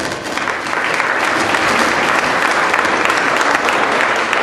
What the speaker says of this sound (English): We give it another round of applause.